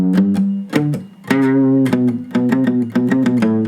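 Guitar playing part 1 of a song riff, a bright, slightly driven run of quick picked notes with hammer-ons and pull-offs in a choppy rhythm, close and alone.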